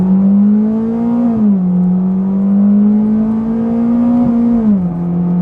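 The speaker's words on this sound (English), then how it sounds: "you can probably sort of tell there that the gears change, you know, decently quickly" Toyota Altezza with an automatic gearbox accelerating hard, its engine note climbing steadily and dropping twice at quick gear changes, loud and close throughout.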